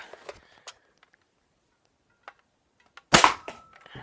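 Nerf Rival Apollo toy blaster fires with a sharp, loud pop near the end, after a few faint clicks and handling taps in near quiet.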